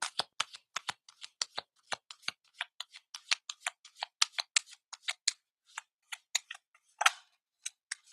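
Sacred Power reading cards by Anna Stark being shuffled by hand, a close, crisp run of rapid riffling flicks and snaps in irregular bursts with no voices.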